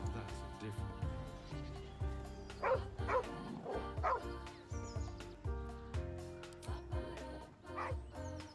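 A dog in the video game Baldur's Gate 3 barks a few times in short yips over a dense bed of game music and ambience.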